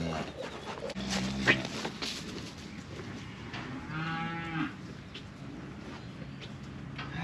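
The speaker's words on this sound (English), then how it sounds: "that dog shows a lot of interest in chasing livestock" Cattle moo in long, drawn-out calls on a farm while a retriever dog chases the livestock, panting and whimpering nearby; two clear moos stand out over a low, steady outdoor background.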